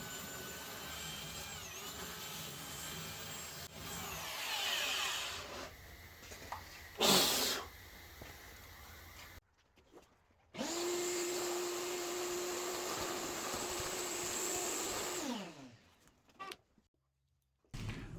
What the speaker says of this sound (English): There was also this tiny lip left over in the plywood from the glue up that I just took my belt sander to